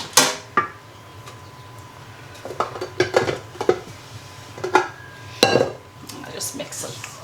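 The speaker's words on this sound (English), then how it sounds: "I just mix it right through here with my spatula" A spatula scrapes and taps against a bowl while mixing batter for Madeira squares, a series of irregular clinks and knocks over soft background noise.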